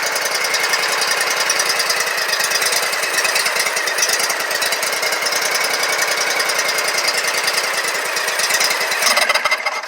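A Kawasaki FX691v engine on a Scag Tiger Cat II zero turn mower runs loud and close, a rough, rapid pulsing clatter that holds steady and then slows slightly at the end.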